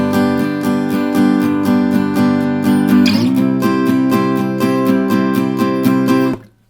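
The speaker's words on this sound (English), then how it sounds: "if you were playing it as fifths, for example, you know, as a power chord, then you're just playing strings 4, 5, and 6." An electric guitar chugs steady downstroke power chords on the three lowest strings, a loud, close, even rhythm that shifts to a new chord partway through before being cut off abruptly.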